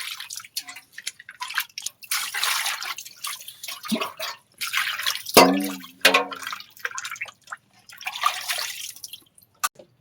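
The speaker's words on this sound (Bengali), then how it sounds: "মাছ কেটে নিয়ে এসেছিল তোমাদের দাদা ভাই, এবার ভালো করে ধুয়ে নিচ্ছি" Freshly cut fish being washed by hand in running water in a home kitchen, with splashing and dripping that come and go in bursts, close and moderately loud, briefly louder near the middle.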